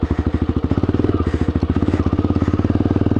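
An Aprilia Pegaso 650 single-cylinder motorcycle thumps steadily through a canyon, its engine pulsing loud and close in a fast, even rhythm under load throughout.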